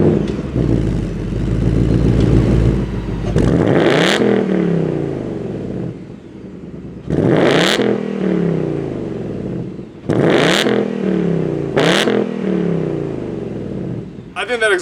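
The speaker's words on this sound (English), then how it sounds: "Let's go ahead and take a listen to this exhaust before we hop inside." A 2021 Ford Mustang Mach 1's exhaust burbles at idle, then barks through four sharp revs that rise and fall back, loud and close, with a deep, rumbling idle between each blip.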